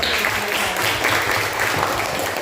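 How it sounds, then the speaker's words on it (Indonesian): A classroom of students claps together, a loud, even burst of applause that runs unbroken from start to finish with no voices on top. "kita beri tepuk tangan dulu"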